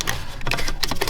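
A ratcheting wrench loosens a bolt holding a Toyota Tacoma side curtain airbag module, giving a quick, close run of light clicks over about a second.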